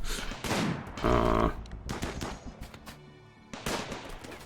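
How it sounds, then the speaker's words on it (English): Automatic turrets fire in RimWorld in the Extreme Desert, with bursts of rapid gunfire, a longer loud volley, and then scattered shots that fade between bursts. No one speaks. "enjoy automatic turrets, suckers"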